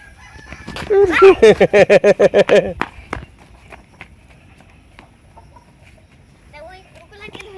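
Several large roosters and hens in a rural Bangladeshi yard, a loud burst of rapid, rhythmic squawking and clucking for about two seconds, then quieter scattered fowl calls with footsteps and faint voices in the background.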